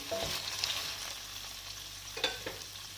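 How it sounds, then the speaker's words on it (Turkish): Chicken liver fries in a pan with a steady sizzle, a few soft scraping stirs and utensil clinks, close and continuous, no talking. "Evet ciğerimiz güzel bir şekilde kavruldu. Böyle karıştırıyoruz."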